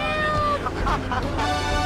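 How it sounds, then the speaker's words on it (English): A cat meows in the video game GTA 3. A few short, close meows rise over a steady tonal background within a couple of seconds. "Rescue a cat out of that tree with your banana cannon, Pogo."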